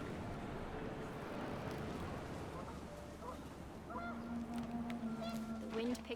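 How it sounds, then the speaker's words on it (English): Panicked geese honking in the game What Remains of Edith Finch, a few calls rising over a steady wind-like rush and muffled background talk. "The wind picked up, and panicked geese appeared and quickly went."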